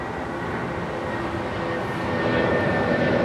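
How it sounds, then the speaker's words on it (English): A United Boeing 757-200 jet departs Los Angeles International Airport for Newark, a steady broadband engine roar that holds loud for the whole stretch and swells slightly toward the end, with no talking. "That was United 251 departing to Newark on a 757-200"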